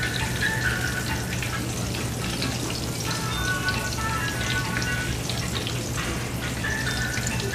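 Pork chops frying in a pan for smothered pork chops, a steady, dense sizzle and crackle that runs unbroken throughout, close and fairly loud.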